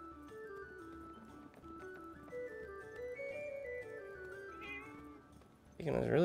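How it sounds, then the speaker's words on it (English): A cat meows in the video game Forspoken, a short burst near the end rising over game music with sustained melodic tones. "What are you doing, chasing the cat?"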